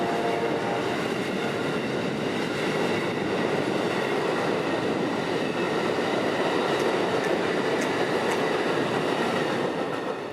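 Amtrak 92 passenger train led by a Charger locomotive with a P42 trailing, passing on the S Line in central Florida, a loud, continuous close roar of wheels and rails that holds steady throughout.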